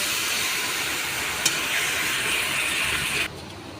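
Water poured into hot oil in a pan while cooking soybean curry sets off a loud, steady sizzling hiss that holds for about three seconds and then drops away abruptly, with no talking over it.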